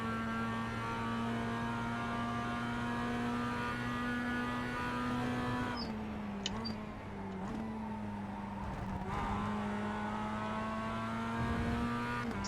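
Mazda MX-5 Cup race car engine in a racing video game: a steady, loud engine drone held at high revs, with a short dip and brief throttle changes midway before it settles back to a sustained roar.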